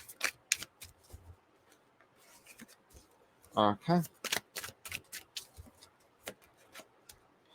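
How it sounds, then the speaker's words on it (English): Tarot cards are shuffled in soft, quick riffling bursts at close range, with a louder flurry midway and a brief spoken word early on. "Shuffle."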